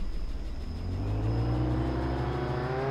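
A car in the video game Jail Break drives and accelerates, its engine tone rising steadily in pitch over a continuous rumbling whir.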